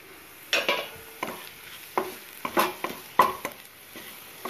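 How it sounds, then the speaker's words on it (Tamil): Ginger garlic paste sautéing in a pan for paneer masala, with a soft low sizzle under a series of distinct spoon stirring scrapes and taps at irregular intervals, close and fairly quiet, no talking. "இஞ்சி பூண்டு பேஸ்ட் அதில் சேர்த்து அதுவும் கொஞ்சம் பச்சை வாசம் போக நம்ம வதக்கிக்கலாம்"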